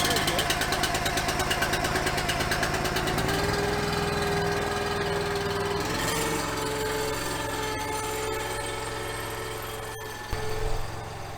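The engine of the Thin Blue Beast runs loud and continuous with a steady droning hum, close up, with a brief knock near the end.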